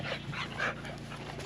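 Excited puppies outdoors give a quick series of short yips and whimpery barks close by, mixed with panting over a faint steady background hum.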